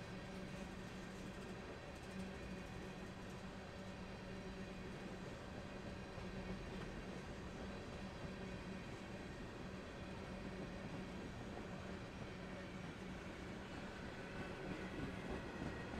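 A freight train rolls past steadily for the whole stretch, a continuous rumble of rail cars with faint clickety-clack, fairly distant and even in loudness, no voices.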